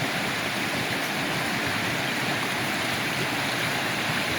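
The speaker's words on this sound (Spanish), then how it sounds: "Aquí el agua nace entre las peñas, por eso se ve mojado aquí." Spring water flowing out between rocks makes a loud, continuous, broadband rushing close by, steady with no breaks or voices.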